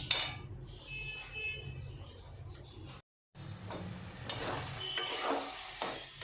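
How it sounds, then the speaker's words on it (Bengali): Loitta fish sautés in a pan with a soft, steady sizzle and intermittent stirring scrapes, close by. Sound cuts out briefly near the middle, then returns with louder clinks and crackles. "দেখেছো কত জল বেরিয়েছে মাছ দিয়ে এটা ভালো করে এখন কষাবো"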